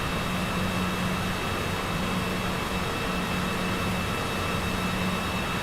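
A Cessna Citation CJ4 business jet taxis out of an airport in Microsoft Flight Simulator 2024, heard as a steady, even jet engine whine and hiss that holds constant throughout.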